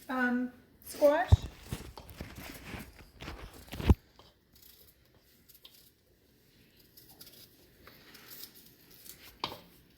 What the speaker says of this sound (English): I'm just going to slice my onion in with my squash.